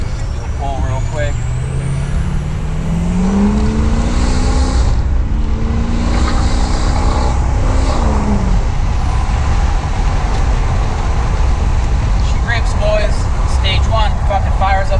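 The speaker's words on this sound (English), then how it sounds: "Just driving the Powerstroke." A Ford 6.0 Powerstroke diesel truck with stock injectors rumbles low and steady on the road, its engine note rising through a brief pull under a driver's talk.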